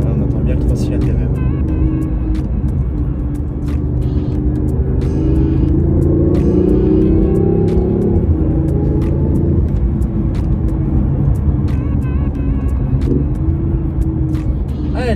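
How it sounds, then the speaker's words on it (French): A warmed-up BMW i8 hybrid runs its three-cylinder engine, a loud, close, throbbing rumble that swells and settles as it pulls, with someone speaking over the steady drone. "Putain là, on entend bien le 3 cylindres quand même."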